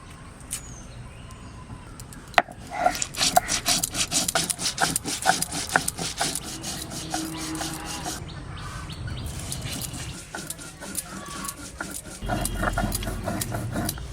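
Cumin ground on a sil-bata stone slab, a rhythmic scraping and rubbing stroke repeated steadily, close and fairly loud, with birds chirping faintly in the background.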